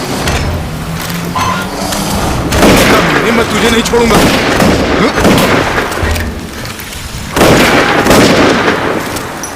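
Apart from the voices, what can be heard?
gunfire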